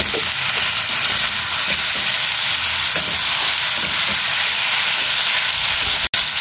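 Salt, sugar and turmeric powder fry loudly in a pan for a chicken dish. A dense, continuous hiss carries occasional soft stirring knocks.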